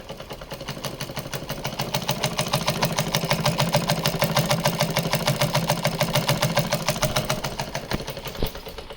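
A tailoring sewing machine sewing close, short stitches after a needle change, a fast, even mechanical chatter with rapid regular clicks that runs steadily and loudly throughout, ending with a small knock.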